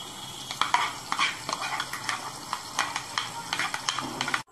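Ghee goes into a chicken dolma mixture in a hot pan, giving a soft sizzle under repeated stirring and scraping strokes, close and moderately quiet.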